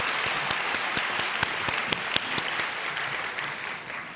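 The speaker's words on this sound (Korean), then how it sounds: "우리 다시 한번 격려의 박수 하십시다" A large church congregation claps in sustained, even applause during a sermon service, dense and continuous before easing slightly toward the end.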